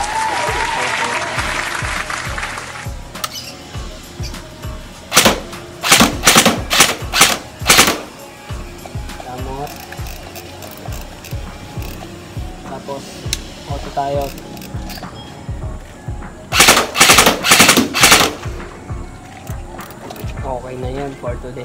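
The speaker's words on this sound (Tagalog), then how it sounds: "yung semi, parang isang kalabit, isang putok. Tapos, yung auto, sunod-sunod na yun." An airsoft gun fires first single semi-auto shots and then rapid full-auto bursts, sharp clustered cracks in two separate volleys with pauses between, while people talk quietly in the gaps.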